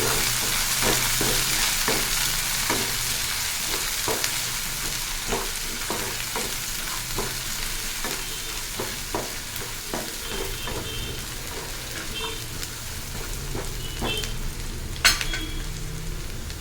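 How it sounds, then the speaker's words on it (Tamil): Onions sauté in a pan, a constant sizzle broken by a long run of regular spatula scrapes and taps, with one sharper clink near the end, no voices. "வெங்காயம் நல்லா வதங்கட்டும்"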